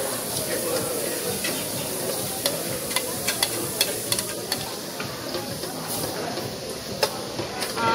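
Beef sizzling loudly on a Korean BBQ grill over a medium flame, a dense continuous hiss with scattered crackles and pops, close and steady throughout.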